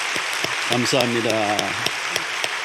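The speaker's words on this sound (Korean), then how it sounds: "우리 환영의 박수 치겠습니다." A church congregation at a Sunday service claps in welcome, a steady wash of applause under someone speaking briefly over it.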